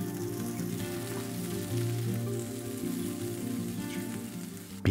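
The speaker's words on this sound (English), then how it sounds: "Red onions. Saute for 1 to 2 minutes." Red onions and garlic sautéing in a pan, a steady close hiss and crackle of frying that continues with no pauses, ending in a brief louder clatter.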